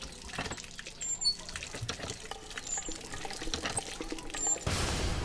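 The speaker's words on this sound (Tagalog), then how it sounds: "Dahil walang tubig nang nawasa rito, eto gagamitin natin, poso." Water from a hand pump pours and splashes irregularly while squid are being washed, closing with a steadier rushing pour near the end, with no talking.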